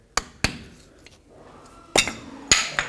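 A screwdriver or small pry bar driven under the front axle cap of a 2007-14 Chevy Silverado, giving sharp metallic strikes, two close together, a faint tap, then two more loud clanking hits.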